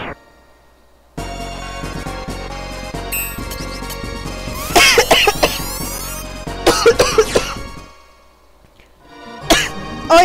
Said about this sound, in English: sorry about the coughing there